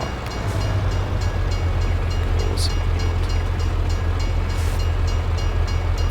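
A train in the Farming Simulator 22 video game rumbles steadily and loudly close by, with a deep constant engine drone and faint rhythmic clatter throughout.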